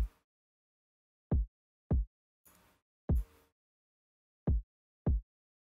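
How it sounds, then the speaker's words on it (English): Six punchy, deep kick drum hits with fast decay, unevenly spaced across silence, with a couple of short noisy hiss bursts between them. "then we have this kick right here."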